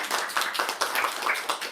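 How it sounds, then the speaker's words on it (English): A small audience at a bookstore author event claps briefly, a short, moderately loud patter of hands. "Please, everyone, give Joy a big round of applause."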